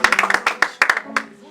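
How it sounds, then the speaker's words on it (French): Congregation clapping in acclaim of the Lord at a 2015 church vigil, a quick run of sharp, uneven claps over several seconds with a voice talking over them. "On acclame le Seigneur pour le frère et la sœur."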